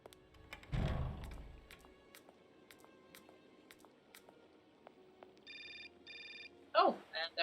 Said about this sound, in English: Oh, and there's the phone.